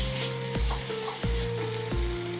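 A tomato fry sizzles loudly in a pan as roasted cumin powder goes in, with a constant hissing broken by three or four scraping stirs of a spoon at roughly even intervals.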